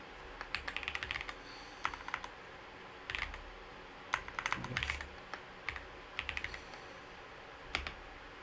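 Typing on a computer keyboard: quiet, irregular bursts of crisp key clicks with short pauses between them, close and alone without speech.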